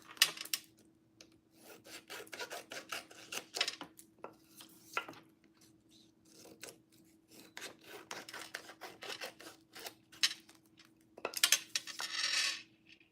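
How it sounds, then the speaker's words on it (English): Close trimming of excess craft material flush against a board, heard as repeated short scraping and rasping cuts, steady and close, with bursts of brighter friction near the end. "I'm going to cut off the excess as close to the board as possible."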